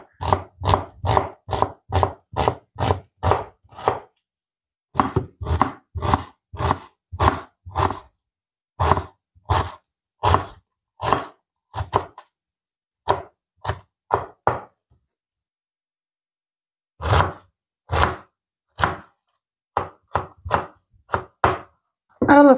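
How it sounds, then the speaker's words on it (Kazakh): Two onions are finely chopped with a knife on a board, giving quick rhythmic knocks in dense bursts with short pauses, close and clear, with no talk. "Енді мына 2 пиязымызды турап аламыз алдымен."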